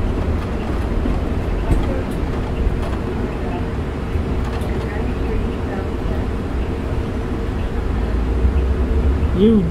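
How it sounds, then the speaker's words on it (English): A northbound train rumbles past outside a moving New Flyer XD40 city bus in North Haven, a steady low roar with faint rhythmic rail clatter, heard from inside under the bus's own engine drone. "There's a northbound train."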